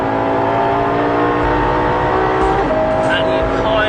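A Ferrari LaFerrari hybrid supercar engine drones loud and continuous from inside the car, with a slight shift in pitch near the end.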